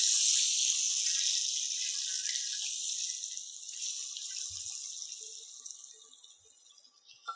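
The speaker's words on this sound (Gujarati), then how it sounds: "એક ગ્લાસ જેટલું પાણી એડ કરી દઈશું" Water poured into a pot while making rasiya muthiya in a kitchen: a steady broadband hiss of pouring, loudest at the start and slowly easing off over several seconds, with no talk.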